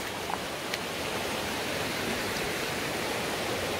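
A river flows in a steady, full-band rush of water, constant and fairly close, with no voices over it.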